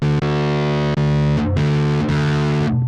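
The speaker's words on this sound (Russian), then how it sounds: "Вот басовый дисторшн." A bass guitar plays through the distortion setting of a BOSS GT-1B effects processor, loud and thickly saturated, with a few sustained notes and quick slides between them over a few seconds, and no voices.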